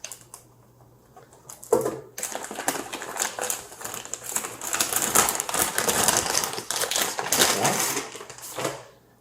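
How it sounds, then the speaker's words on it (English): Crinkly plastic packaging from a NAS or home server motherboard box being handled nearby, a dense run of crackling and rustling that starts after a quiet pause and continues for several seconds. "Inside, we've got nice crinkly plastic."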